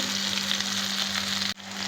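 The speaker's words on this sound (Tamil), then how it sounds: "இதை நல்லா வதக்கிக்கிறணும்." Continuous loud sizzling of vegetables sautéing in a hot pan, with a brief dip near the end as if stirred.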